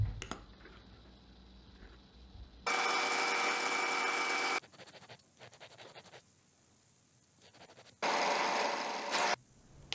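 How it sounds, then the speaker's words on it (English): A metal bandsaw cuts a metal template for a prop arm, with two loud bursts of harsh, steady rasping separated by quieter mechanical handling noise and light clicks. "I then transferred that template to the metal to be cut to shape using my metal bandsaw"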